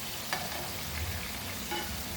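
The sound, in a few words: frying Goan beef meatballs in a pan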